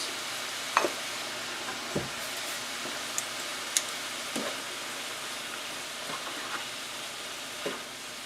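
Butter melts in a hot pan while cooking creamy chicken with mushrooms and garlic, giving a steady soft sizzle with occasional faint pops and clicks, no voices over it.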